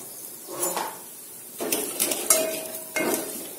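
Turmeric, chili powder, ginger and garlic are sautéed in a pan, with several separate bursts of scraping and stirring and a soft sizzle between them, fairly quiet and close.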